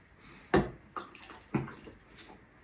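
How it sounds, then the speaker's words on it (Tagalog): Hot water splashing into a pot of salty pork adobo, heard as a few separate near pours and splashes with short quiet gaps between them, with no talk. "Nagdagdagan ko lang po ng mainit na tubig."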